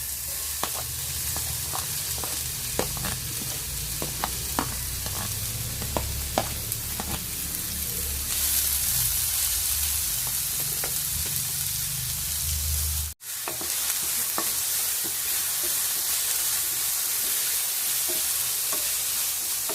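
Crushed ingredients sizzle in hot oil while a spoon scrapes and taps the pan in irregular strokes, close up, while cooking squid. The sound cuts out briefly once.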